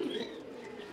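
A soft, low pigeon coo sounds briefly and faintly against quiet background noise, from flying pigeons.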